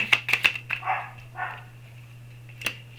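A few quick, sharp dog barks at the start, then softer yelps, with a steady low electrical hum underneath throughout.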